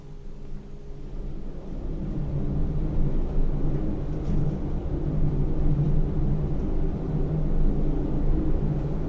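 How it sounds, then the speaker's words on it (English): A steady low rumble and hum fill a lift carrying passengers upward in a residential tower, constant and droning with no talk. "Lift is going up."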